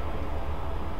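A hijacked express subway train in the Spider-Man 3 game gives off a steady, loud, low rumble that rolls on without a break.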